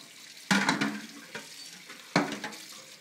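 Tap water runs and splashes at a sink during washing up, with two sharp bursts of splashing and clattering over a steady low wash of flowing water, close by and with no talking.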